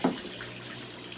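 Water flows steadily in a home fish tank driven by a new powerhead, a soft continuous rushing after a brief louder splash at the start, with no talking.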